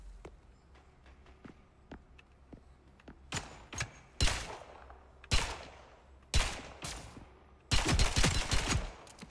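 Gunfire in the online shooter Spectre Divide: scattered light taps give way to sharp, loud shots and rapid bursts, ending in a sustained volley, with no talking.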